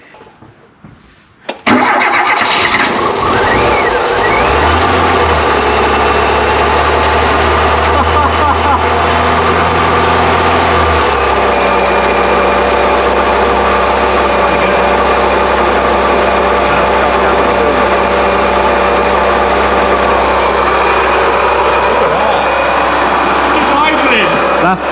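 A Volvo 340 left abandoned for 25 years cranks briefly, catches and settles into a loud, steady idle that runs on alone for over twenty seconds, the tone dropping slightly partway through.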